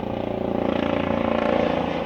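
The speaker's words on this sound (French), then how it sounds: "là j'ai l'hélicoptère de gendarmerie" A gendarmerie helicopter passes overhead outdoors, a steady loud rhythmic rotor thrum with a low engine drone, continuous and unbroken.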